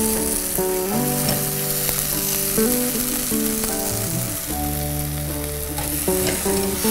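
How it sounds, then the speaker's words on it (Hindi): Tadka of spices and yogurt sizzling in ghee for a Mughlai moong dal, a steady, dense frying hiss running underneath louder sustained background music. "ये देखिए तड़का जो है सूख गया, मसाले भुन गए, दही ने अपना घी छोड़ दिया"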